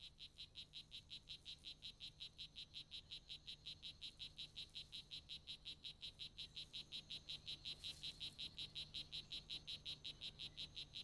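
A male frog inflating its vocal sac to call for a female produces a steady, rapid train of pulsed calls, about five per second, that stays even and moderately faint throughout with a soft background hum.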